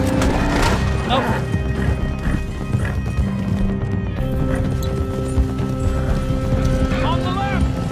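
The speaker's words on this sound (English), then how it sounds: "Damn, that's a big horse." Horses gallop hard in the video game Red Dead Redemption II, with pounding hoofbeats, whinnies and crashes throughout, while several players shout over the chase.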